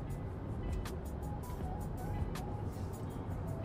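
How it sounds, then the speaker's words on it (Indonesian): Steady low road and tire rumble inside a Mitsubishi Destinator cruising along, a continuous dense drone with little wind hiss and a few faint higher clicks over it. "Lebih dominan suara ban ya ketimbang suara angin ya"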